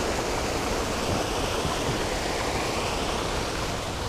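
Strong natural spring water rushes steadily and loudly, a dense, continuous gush close by with no voices.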